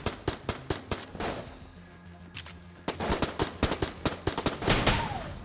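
Rapid AK rifle gunfire from the Enter the Gungeon video game, loud bursts of close shots in quick irregular rhythm with short pauses, alone without talk.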